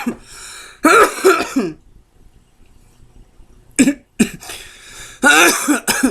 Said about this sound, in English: let's get past this coughing.